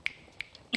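Three crisp, close finger snaps, sharp and irregularly spaced, in an otherwise quiet setting.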